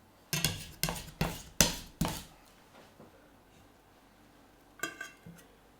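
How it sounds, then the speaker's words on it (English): A kitchen knife chops a couple of garlic cloves on a board: five sharp, evenly spaced close knocks in quick succession, then a pause and a couple of lighter taps, with quiet room background. "The last veg to chop is just a couple of cloves of garlic that I'm going to get minced."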